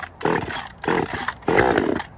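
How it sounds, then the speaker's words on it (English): A cheap budget chainsaw roars to life after being started, running in three loud bursts of revving separated by brief dips to idle, close by with no talk. "It's a chainsaw."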